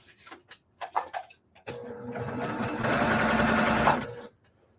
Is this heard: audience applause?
no